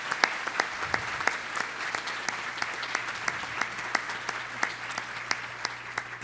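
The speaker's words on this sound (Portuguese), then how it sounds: "Eu queria uma salva de palmas para vocês." A large conference audience of about 1,600 people at an eCommerce event claps steadily. Individual sharp claps stand out near the front over a softer wash of applause, with a low hum underneath.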